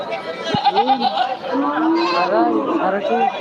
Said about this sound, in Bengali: ছোট ছোট বাচ্চা দেখতে পাচ্ছি ম্যা করে ডাকতেছে